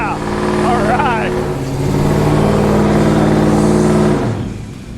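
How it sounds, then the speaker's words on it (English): A pickup truck engine roars loudly and holds a high sustained rev during a smoky burnout, pitch climbing then easing before dropping off, with a voice briefly heard over the start. "thanks for doing a little smoky burnout for us"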